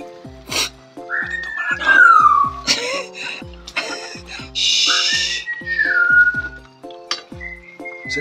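A parrot whistles in clear, sliding tones, several rising and falling phrases with short pauses between, close and fairly loud.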